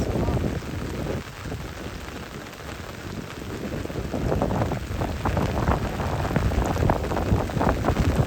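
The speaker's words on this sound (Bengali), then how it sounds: "দেখেন কি পরিমাণ বাতাস আর কি পরিমাণ বৃষ্টি হচ্ছে" Heavy rain driven by strong wind beats down during a rainy-day net fishing outing, a loud, roaring wash that swells and thickens toward the end, with a voice faintly audible beneath it.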